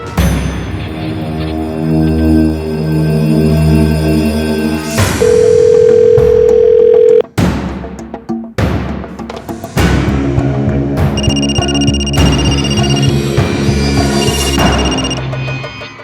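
A loud electronic phone tone plays in repeated bursts and pulses, with a long steady beep partway through, no voices present.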